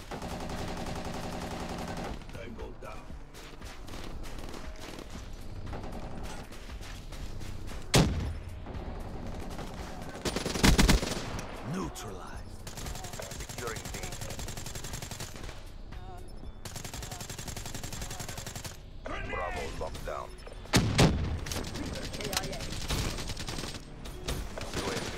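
Video game gunfire on a PS4, repeated bursts and loud single shots over a busy battle background, with a few sharp peaks standing out and some talk in between.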